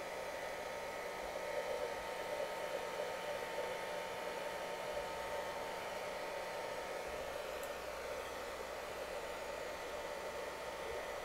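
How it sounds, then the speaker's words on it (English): A hair dryer blows steadily at close range, a constant whooshing hiss with no breaks. "Hair dryer is down at this angle and it dries it in place"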